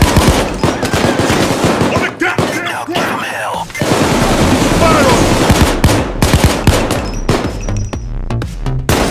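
Gunfire in Payday 2 during a jewelry store heist: loud rapid bursts of automatic weapon fire crackle almost continuously, with a brief lull midway before the shooting resumes just as dense.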